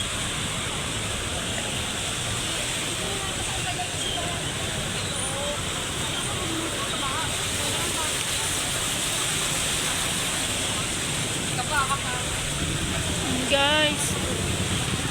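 Floodwater rushes across the flooded McArthur Highway in Karuhatan, Valenzuela after rain, a dense continuous wash of water noise with faint distant traffic and a brief squeak near the end.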